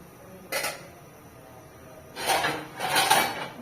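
A lid goes onto a pot of fried meat: one short metallic clatter, a pause, then two longer rattling, scraping contacts close by as it settles into place.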